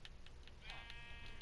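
A sheep in the video game Minecraft bleats once, short and clear, over faint background hiss and light clicking.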